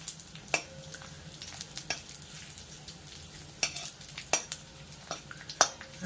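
Edible gum (dink) for ladoos frying and puffing up in a pan, a steady low sizzle punctuated by repeated sharp clinks and scrapes of a spoon against the pan, close and alone with no talking.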